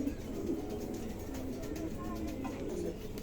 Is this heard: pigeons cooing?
yes